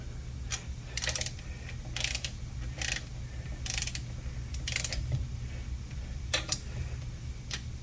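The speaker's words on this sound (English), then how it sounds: "I'm going to torque our rods up" A ratcheting torque wrench tightens ARP bolts on Big Block Chevy connecting rods, giving short bursts of rapid clicking spaced about a second apart, close and clear over a low steady hum.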